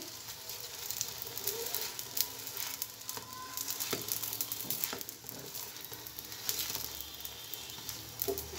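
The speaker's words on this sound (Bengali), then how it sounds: "তেল দেওয়ার পরে এইভাবে চেপে চেপে ভাজি করবেন।" Aloo paratha, a potato-stuffed flatbread, frying in oil in a pan and pressed down as it cooks, giving a steady close sizzle with scattered crackles and soft scraping, no talk.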